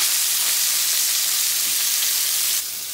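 Onions frying in a pan, a dense, loud, continuous sizzle that holds steady and then drops slightly in level near the end.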